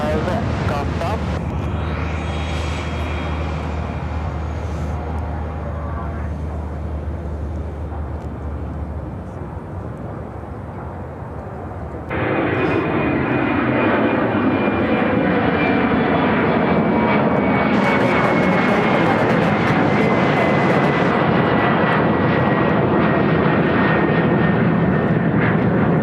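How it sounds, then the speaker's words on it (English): United Airlines Airbus A319 taking off from Chicago O'Hare: a rising jet engine roar that jumps sharply louder partway through and stays strong, with a falling whine, near and loud. "This is United Airlines 1414 taking off to Sacramento"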